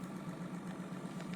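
A pulse motor sculpture spins at about 470 RPM, making a faint, steady low hum with a fast regular pulsing throb, close and unbroken.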